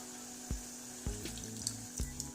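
Tamarind water is poured into taro leaves cooking in a pan, making a soft splashing, bubbling sound over a low steady hiss, with a few quiet knocks.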